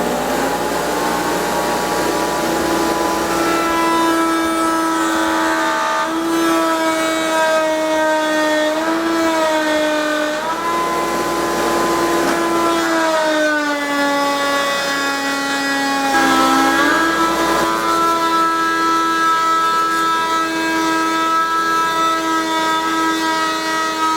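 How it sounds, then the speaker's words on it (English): A router on a router table cuts a wooden spare tire subwoofer enclosure, producing a loud, sustained whine whose pitch dips and slides as the bit bites into the material. "We're going to router this on the router table."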